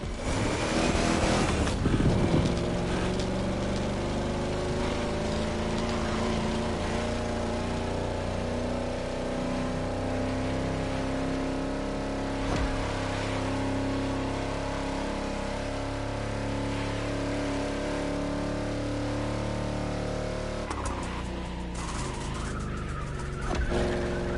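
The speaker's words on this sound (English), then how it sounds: "Your car's a 71 Caprice, the purest bass you can get." A 1971 Caprice engine in The Crew Motorfest video game rumbles with a deep, bassy tone, holding a steady drone with gradually shifting pitch after a brief rev at the start and again near the end.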